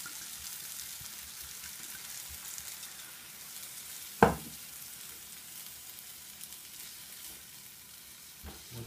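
Red wine poured into a hot pan of softened apples, sizzling and frying steadily throughout with a sharp hiss burst near the middle and a quieter stir toward the end.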